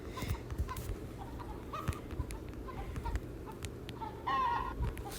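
Chickens cluck in short, scattered bursts inside the mobile farming game Egg Inc., quiet over a low background hum, with a brief squawk near the end.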